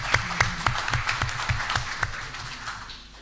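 A smaller group claps at a conference opening ceremony in Beni Mellal, Morocco, for laboratory students; distinct, fairly sparse hand claps close by that thin out and fade toward the end.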